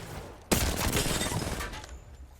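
Gunfire in the Apex Legends firing range set to full combat: a sharp onset followed by a rapid burst of shots that rings on and fades out over a couple of seconds, fairly loud and close.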